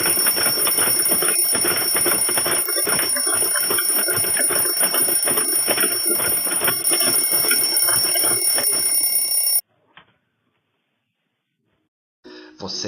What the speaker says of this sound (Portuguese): Conheça nosso super, hiper, mega blaster despertador.